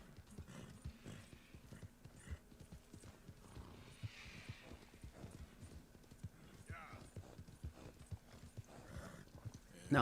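Hooves of an Appaloosa horse in a video game clip-clop in a quick, steady gait, with scattered faint mechanical clicks and a brief whinny-like sound, fairly quiet overall.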